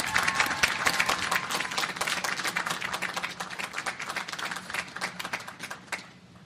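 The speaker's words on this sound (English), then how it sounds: "Let's give them a huge round of applause." Large crowd of thousands applauding at the commissioning ceremony of the Navy ship USS Sioux City at the Naval Academy, dense sustained clapping throughout that tapers slightly at the end.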